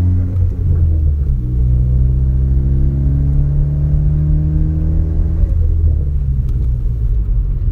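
A modified 350 hp 2016 Ford Focus ST turbo engine revs with a deep close rumble, pitch climbing smoothly through a sustained pull and then easing back, loud and steady with no talking.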